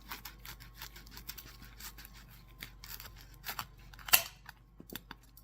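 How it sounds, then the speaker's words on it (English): A very sharp knife slicing through French bread pizza on a plate, heard as quiet, close crunchy crackles and scrapes, with one sharper crisp snap near the end. "Then I'm going to cut a piece off of here with a very sharp knife."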